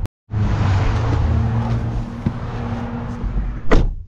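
A 2025 Toyota Corolla Hybrid's engine hums steadily as it drives along, with road and tire noise throughout and a brief sharp knock near the end.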